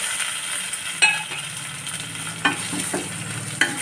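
Tomatoes sauté in a pan for semiya khichdi, a quiet continuous sizzle broken by a few sharp spoon knocks and scrapes against the pan.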